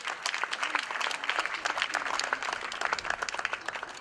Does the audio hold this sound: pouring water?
no